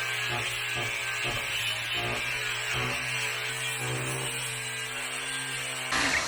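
A power tool whines steadily while sanding and grinding on a high-top van during a conversion build, with repeated scraping strokes and a sharp change in pitch near the end.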